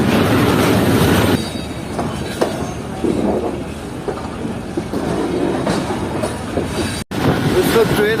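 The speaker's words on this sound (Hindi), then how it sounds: "इस वक्त ट्रेन हमारी काफ़ी अच्छी स्पीड में चल रही है, तकरीबन 115 किलोमीटर की स्पीड है" Zikriya Express passenger train running at about 115 km/h between Karachi and Multan, heard from inside a carriage as a loud, steady rumble with wheel clatter and some squeal, continuing without a break.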